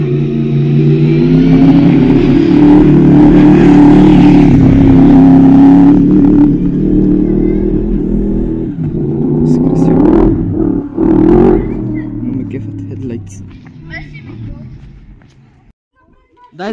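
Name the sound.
Mercedes CLS 63 car engine revving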